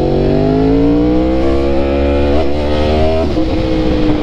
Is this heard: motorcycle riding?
yes